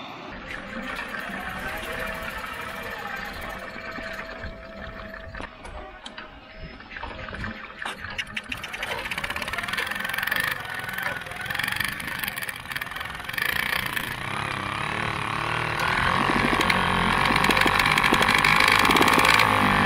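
A two-stroke diesel moped engine runs on the road during a ride, its steady rattling drone growing louder and rougher as speed and wind noise build over about twenty seconds.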